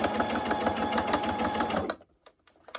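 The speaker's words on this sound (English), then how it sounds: "Back stitch a couple times, and then just sew straight down along the edge" A sewing machine stitching straight along the raw edge of a quilted fabric bag, a fast, even mechanical whir for about two seconds that then stops abruptly, leaving a few faint clicks.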